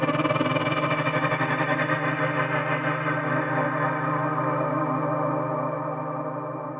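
A sustained rich, buzzy chord from the u-he Hive 2 synthesizer, with an aftertouch-controlled LFO adding a fast wobbling pulse that slowly thins and fades over several seconds, no voices.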